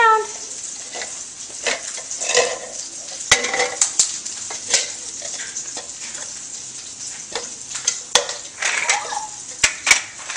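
Food stirred in a pot, with repeated clinks and scrapes of a utensil against the pot over a faint sizzle, close and irregular, with short bursts of chatter in between.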